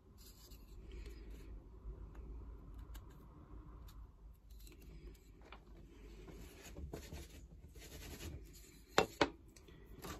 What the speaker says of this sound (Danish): Så fjerner du bare papir her.